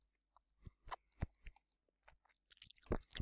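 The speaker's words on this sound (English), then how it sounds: "You're gonna be crunching on pepperoni." Someone crunches on pepperoni, giving a series of sharp, close, irregular chewing crunches that grow denser and louder toward the end, with no talking.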